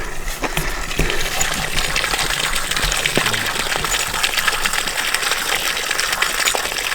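Fresh spring water at a campsite flows and gushes steadily throughout, a continuous broadband rush that stays close and fairly loud, with small splashes and clicks scattered through it and no voices.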